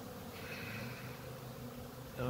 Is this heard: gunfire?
no